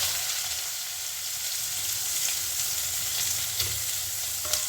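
Cumin seeds and chopped onion, with cinnamon and cloves, fry in hot oil in a pan, giving a loud, continuous close sizzle with light stirring and a few small pops.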